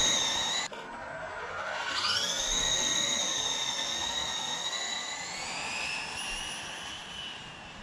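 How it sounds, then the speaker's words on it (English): Traxxas Drag Slash RC car doing a tire burnout, a loud high whine that rises in pitch and then holds a steady, near scream with no talk. "I'm gonna give the tires a burn."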